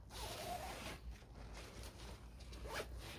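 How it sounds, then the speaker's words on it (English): A zipper drawn closed on a laundry bag for synthetic clothes, a quiet, close, raspy zip lasting a few seconds. "just zip it up"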